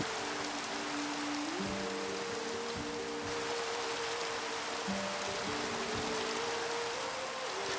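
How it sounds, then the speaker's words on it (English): Minecraft rain falls as a steady, even hiss of synthetic rainfall throughout, with soft sustained music tones gliding beneath it and no voices. "decided just to go out in the rain"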